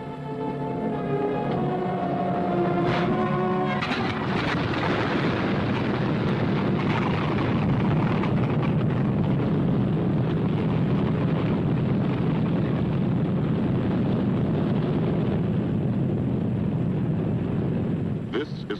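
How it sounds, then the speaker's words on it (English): Deep, droning roar of B-17 bomber engines, loud and sustained, with a brief tonal sound at the start before the engine noise dominates. "Only the roaring engine sound of the bombers pounding through the quiet English countryside."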